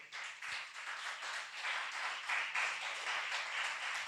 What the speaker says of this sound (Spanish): Dele fuerte el aplauso al Rey.